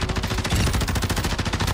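Tempus Razorback rifle in Warzone 2 firing a rapid automatic burst, a dense, evenly spaced string of loud, punchy shots close up, with no talking.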